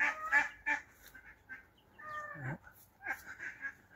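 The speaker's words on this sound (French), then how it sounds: "Alors voilà les canards." Several ducks quack and honk in short, scattered calls, some nearer and louder, with quiet gaps between them.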